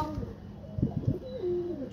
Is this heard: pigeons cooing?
yes